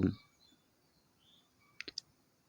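A computer mouse clicks on a login button, giving a quick cluster of three faint, sharp clicks after a soft thump and near silence.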